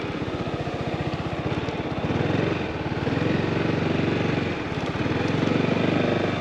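Motorcycle engine running steadily as a learner rider weaves through a cone course, a close, continuous throbbing putter that swells and eases slightly with the throttle, no voices.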